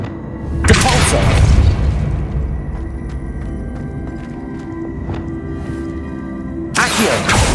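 A Depulso spell goes off in Hogwarts Legacy with a heavy booming burst that swells into a sustained low rumble, followed by scattered light thuds, then a second forceful blast near the end.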